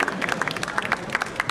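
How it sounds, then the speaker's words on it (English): Scattered applause from a small expo audience, brisk close claps in an uneven patter over a murmuring room. "Come on, big round of applause for this fine gentleman."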